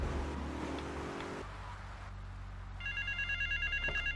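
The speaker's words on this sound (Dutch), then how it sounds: "Oké, telefoontje." A telephone rings in the video game GTA 3, a repeated electronic ringing pulse heard over a steady car engine rumble, starting partway through the clip.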